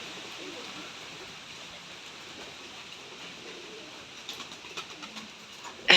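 Rajshahi Giribaz pigeons cooing softly at a pigeon farm, a low continuous murmur of many birds with a few louder bursts of movement toward the end.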